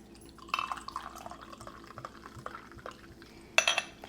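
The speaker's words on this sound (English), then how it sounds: "And I'll just pour a glass here so you can see it." Homemade fizzy pink water kefir is poured into a glass, with light splashes, drips and a clink of glass at the start and near the end, close and fairly quiet with no talking.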